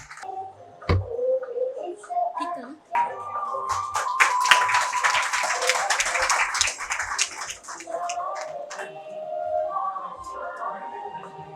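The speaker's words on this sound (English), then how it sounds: "Give a huge round of applause, please." Audience applause at a formal dialogue event on India and Europe, following a lamp lighting ceremony: a crowd claps steadily, peaking mid-clip, with scattered sharp claps and faint background voices.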